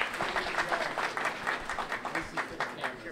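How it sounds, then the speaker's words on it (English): An audience at a Brockton Ward 6 sports complex public meeting applauds briefly, a dense burst of overlapping hand claps heard fairly close, with some voices mixed in. "round of applause for the EPA"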